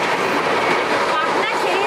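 Kumbha Express train running near Buxar, a steady loud rumble and rattle of wheels and carriages heard from inside the coach, continuous and close throughout.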